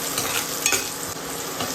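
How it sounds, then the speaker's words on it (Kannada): Onions frying in coconut oil in a pan, a loud, steady, close sizzle with a brief stir or scrape near the middle, and no voices. "ಈರುಳ್ಳಿ ಸ್ವಲ್ಪ ಫ್ರೈ ಆಗಲಿ."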